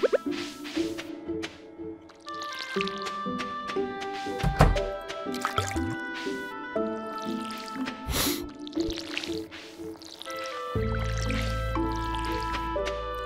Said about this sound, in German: Nicht das Gießen vergessen.